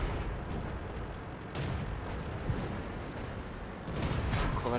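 Tank cannons fire in a World of Tanks battle, several booming shots spread across the stretch amid ongoing rumble, moderately distant and fairly quiet.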